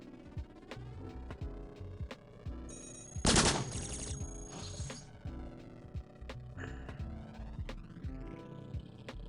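Rapid burst of flak gun fire in the video game Cogmind, a loud dense volley lasting about a second amid steady electronic game hum and sparse clicks.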